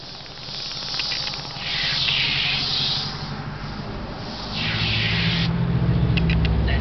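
Tire cleaner sprays onto car tires in long, steady hissing bursts from an aerosol can, loud and close, with a brief clicking shake partway through and a low rumble underneath.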